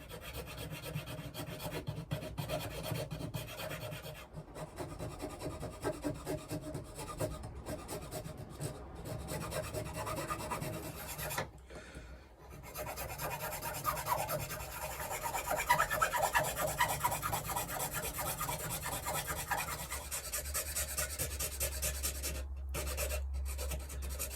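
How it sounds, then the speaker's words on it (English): Needle files rasp across a wooden guitar part in steady, close scraping strokes that continue almost throughout, with brief pauses and a low hum near the end. "I'm going to just go through it with needle files and see if I can finesse it a bit"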